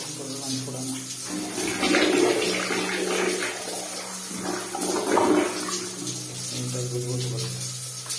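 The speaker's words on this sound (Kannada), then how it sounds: "ಟ್ಯಾಪ್ ಆನ್ ಮಾಡಿದ್ರು ಶವರಲ್ಲೂ ನೀರು ಬರ್ತಾನೆ ಇದೆ." Water gushes steadily from a tap and a shower into a bathroom, a broad continuous rush that swells and eases in waves, while a voice talks over it.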